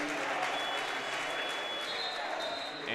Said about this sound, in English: And now get the crowd going.